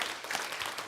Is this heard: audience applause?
yes